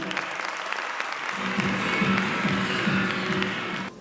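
Strong audience applause at a large motivational mega show in Jabalpur, dense and loud clapping from a big crowd that builds and holds, then cuts off near the end.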